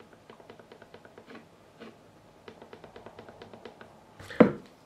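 Metal fret rocker tapped across a high fret on a Fender Player Series Stratocaster neck, a faint run of quick light clicks in irregular rhythm, close by, ending with a sharper knock.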